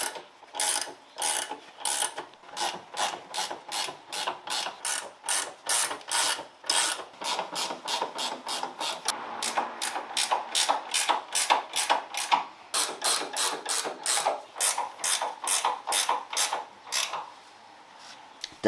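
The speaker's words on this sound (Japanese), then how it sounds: "ブッシュのボルトナットを締めておきます" A ratchet tightens suspension bushing bolts and nuts on a jacked-up Caterham Super Seven, producing close, crisp bursts of rapid clicking in a regular back-and-forth rhythm that repeats over and over.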